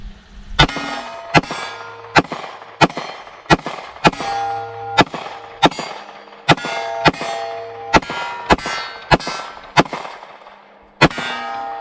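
Glock 43X pistol fired at a range to test aftermarket aluminum magazine baseplates, about fifteen sharp, loud single shots in a steady, evenly spaced rhythm with brief ringing decay after each.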